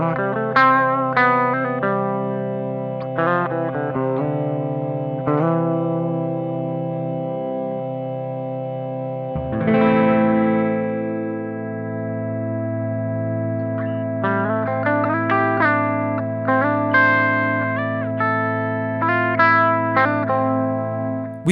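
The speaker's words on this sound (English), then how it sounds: "Modify controls the volume of our sustained reverb." Chase Bliss Audio Dark World pedal sustains a reverb wash under picked guitar-like notes, the held tones swelling and lingering between phrases, with a sharp swell partway through; steady and prominent with no voices.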